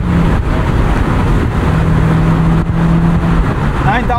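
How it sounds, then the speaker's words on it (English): A 2003 Honda S2000 engine drones loud and constant from inside the car, a sustained high-revving tone with a brief pitch sweep near the end and speech-like sounds mixed in. "you just want to rev it out all the time"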